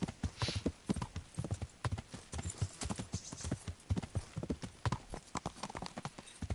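Horse hooves galloping in the game Kingdom Come, a quick, steady clip-clop rhythm of hoofbeats running throughout, fairly faint and mostly alone.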